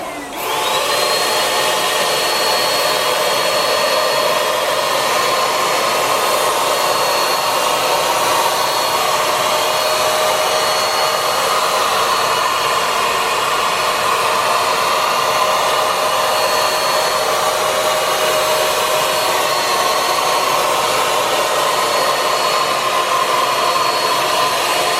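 A Wagner paint spray gun sprays steadily and loudly up close, a continuous airy motor hiss with a high whine, unbroken for the whole stretch with no voices.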